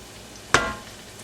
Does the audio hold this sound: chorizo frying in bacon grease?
yes